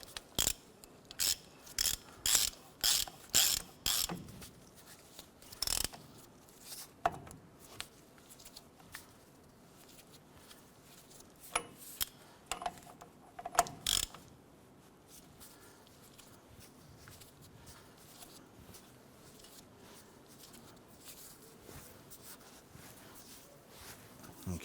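Front wheel bearings on a 1993-1997 Ford Ranger being seated while the brake rotor is turned by hand: a run of sharp, close mechanical clicks and ratcheting knocks early on, then sparser clunks and quiet handling noise.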